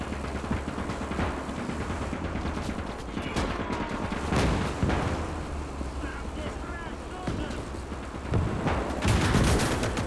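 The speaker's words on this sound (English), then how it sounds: "lots of artillery just air bursting among the trees" Artillery shells air-bursting among trees during a Gates of Hell battle on the Mannerheim Line at Lähde, heard as several heavy, distant booms scattered over a constant rush of wind and battle noise.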